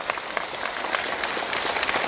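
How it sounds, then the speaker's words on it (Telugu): A theatre audience at Ashoka Theatre breaks into dense, steady applause for Brahmarshi Patriji after a guided meditation, with many hands clapping loudly and continuously throughout. "గట్టిగా బ్రహ్మర్షి పత్రిజీకి చప్పట్లు కొడదాం"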